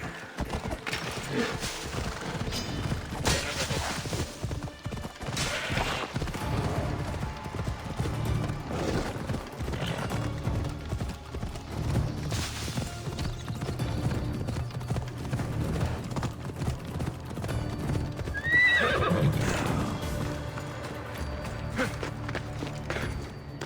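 A horse gallops in Assassin's Creed Odyssey, with a continuous rhythmic clip-clop of hooves at close range and a brief neigh partway through.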